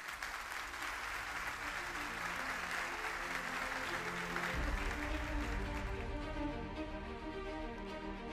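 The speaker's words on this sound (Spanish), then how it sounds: "Y lo recibimos con un fuerte aplauso." A crowd applauds steadily and continuously, loud and close, while music plays underneath.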